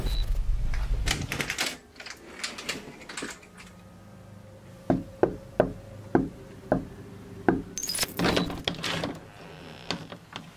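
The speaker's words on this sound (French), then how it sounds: "Ils toquent à sa porte et elle ouvre." A series of sharp, evenly spaced knocks raps on a wooden door. After a louder rustling passage, several more irregular knocks follow at close range.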